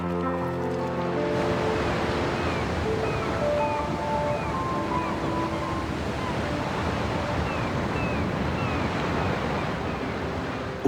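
Atlantic surf breaks continuously against a rocky coast of arches and caves at the foot of the Cantabrian hills, a loud, dense roar of waves with wind, while faint bird calls whistle above.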